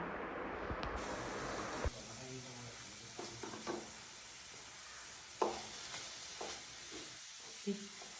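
Onions with salt sautéing in a pan, a soft steady sizzle with a few scraping stirs and light clinks of a utensil against the pan, close by and fairly quiet.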